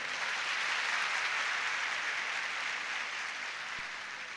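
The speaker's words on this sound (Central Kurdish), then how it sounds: "چەپڵەیکان بۆ لێدەن" Steady applause from a large audience at a speech, a dense, even wash of clapping heard from some distance, alone and sustained throughout.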